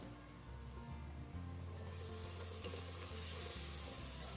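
Garlic paste fries in spiced masala with Kashmiri red chili powder for Bangalore-style chicken biryani, a close, steady sizzle with soft stirring scrapes and a low hum underneath, growing brighter toward the end, no voices.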